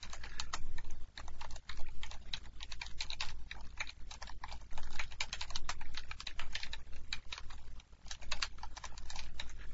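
Steady, close keyboard typing on a computer, a brisk run of crisp key clicks with brief pauses, alone without talk.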